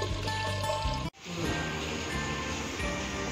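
Water running off freshly washed cabbage leaves in a kitchen, a steady pouring, trickling stream close by, briefly cut off and then resuming.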